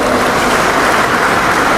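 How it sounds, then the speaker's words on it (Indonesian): An audience applauds at a university graduation ceremony, a dense, even wash of clapping that stays loud and unbroken throughout. "Tepuk tangan dulu lah untuk semuanya"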